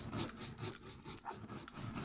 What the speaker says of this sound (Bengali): নুন আর সরিষাটাকে আগে একটু বেটে নেব।